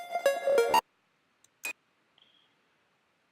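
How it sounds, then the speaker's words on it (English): A brief synth pluck stutters and cuts out, then scattered glitchy clicks and blips pop up sparsely against silence. "we also have beat repeat on here, which kind of gives this glitchy distortion to the sound"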